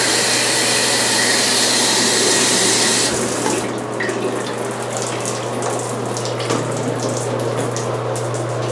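A hotel room shower at the Luxor, Las Vegas, sprays hard and steady, a loud hissing rush that drops slightly in intensity partway through and keeps running to the end.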